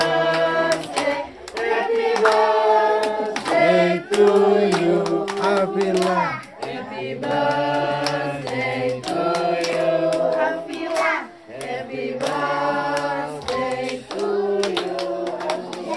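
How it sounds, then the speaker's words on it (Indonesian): At a child's birthday party, people clap hands in a lively, rhythmic group mixed with singing and children's voices, the clapping running throughout the stretch with brief pauses. "tepuk tangan semua"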